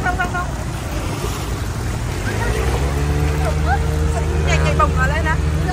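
A car pushes through flood water on a road, its engine rumble and churning wash rising partway through, while excited voices talk and shout over it.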